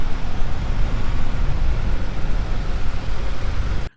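An imported JDM car idles loudly at a shipping port just after starting, a steady, rumbling engine drone that runs unbroken until it cuts off abruptly at the end.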